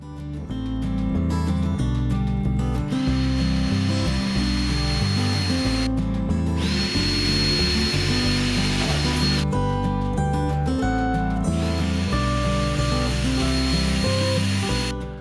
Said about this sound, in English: I then remove everything and drill all of the required holes.